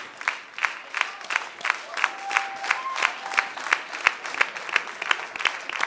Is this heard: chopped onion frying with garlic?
no